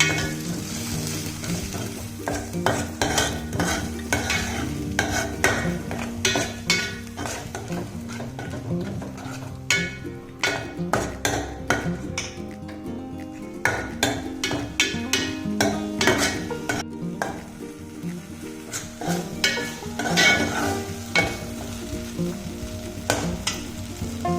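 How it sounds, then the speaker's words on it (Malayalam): Soybean curry ingredients sizzle steadily in a pan while being sautéed, with frequent scraping and stirring strokes of a utensil against the metal, close and continuous throughout. "ഇതിൻ്റെ പച്ചമണം മാറുന്നിടം വരെ നമുക്കിതൊന്ന് വഴറ്റി കൊടുക്കാം."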